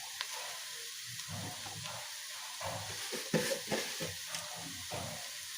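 Onions frying in a pan with a little salt added hiss and sizzle steadily at low volume, with soft stirring scrapes and bumps breaking through the constant crackle.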